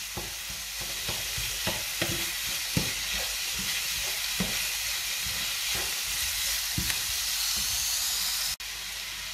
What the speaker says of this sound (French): On mélange doucement.